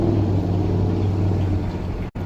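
A 1967 Chevelle engine rumbles loudly and close at an SCCA autocross, holding a deep steady drone with a brief dropout near the end.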